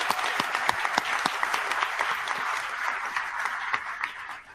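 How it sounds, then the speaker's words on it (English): An audience at the MOAA annual meeting breaks into a round of applause for Suzanne: dense, steady clapping from a large crowd, with sharp individual claps standing out, fading slightly at the end. "So please join me in a round of applause for Suzanne"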